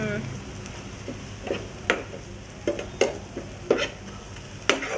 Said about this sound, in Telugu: ఇలా దగ్గరికి అయిపోయి మొత్తం ఆయిల్లోనే కుక్ అవ్వాలి